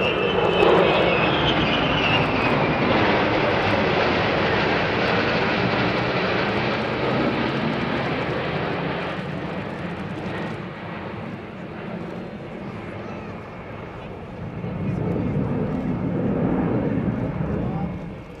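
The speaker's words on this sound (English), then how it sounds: "And finally a trio of Tu-160s." Several Tu-160 bombers pass overhead at a Russian air force centenary airshow in Zhukovsky, a loud, broad jet roar that fades slightly and surges again near the end, with a commentator speaking over it.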